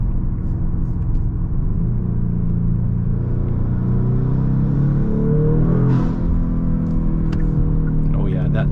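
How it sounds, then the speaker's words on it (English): A tuned 2023 Genesis G70 driving on the road, its engine rumbling steadily up close with a rising pitch as it accelerates, then a brief turbo flutter near the end of the run. "that turbo flutter is so nice"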